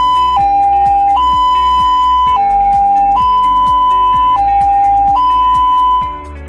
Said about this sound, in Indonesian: Jenis sirene yang pertama adalah sirene yang menyerupai bunyi palang kereta api,